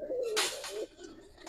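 An old-generation gribaz pigeon, a colouring breed, gives a short, close, throaty coo that rises and falls, with no talking.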